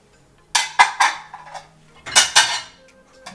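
Small soup plates clatter into a plastic basin in two quick bursts of sharp ceramic clinks, close by, with a brief pause between the groups.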